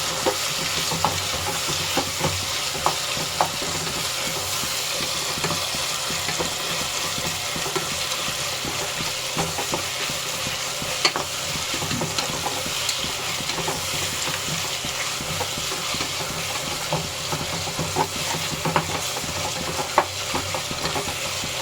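Tomatoes fry in a pan for chicken biryani with a constant close sizzle, while a spatula stirs and scrapes in frequent irregular strokes; no voices.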